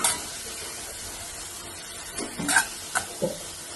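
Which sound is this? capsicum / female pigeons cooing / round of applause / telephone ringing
capsicum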